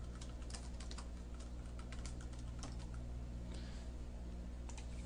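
Computer keyboard typing and mouse clicking while adding a subtitle to a PowerPoint slide, light scattered taps and clicks over a steady low hum, close and quiet.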